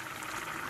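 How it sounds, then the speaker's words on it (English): Brown rice boils in a pot of water on a stove, a close, steady bubbling hiss throughout. "right now, you can see that my rice has boiled."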